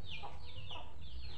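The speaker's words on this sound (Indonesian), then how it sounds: "Ayamnya masuk" Chickens clucking close by in a short burst of several repeated calls, with a low rumble beneath.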